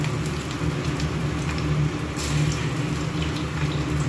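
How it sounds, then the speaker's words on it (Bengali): Potato pakoras deep-fry in hot oil, giving a steady, close crackling sizzle like light rain with scattered pops throughout. "লাল লাল করে ভেজে নেবে, ব্যাস হয়ে যাবে।"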